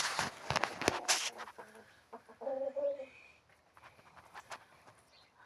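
A hen clucks in a farmyard coop after laying an egg, giving a burst of close, sharp clucks followed by a softer, drawn-out cackle that fades into quieter rustling.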